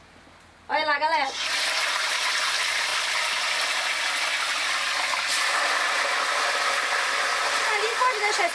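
Tilapia fish frying in hot oil in a family kitchen, a steady, loud, broadband sizzle and spatter that starts after a brief voice and carries on without letting up.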